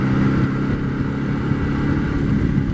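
An Izh Jupiter motorcycle engine runs steadily and loudly close by, a continuous low mechanical drone with a throbbing, uneven rumble and no breaks or voices.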